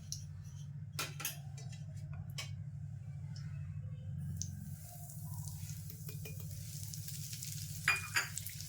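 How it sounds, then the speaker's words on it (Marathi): Fine semolina roasting in ghee and oil in a pan: a soft, steady sizzle with intermittent spoon scrapes and clinks, quiet and close. "आता व्यवस्थित असा लाल होईपर्यंत ना भाजून घ्यायचा"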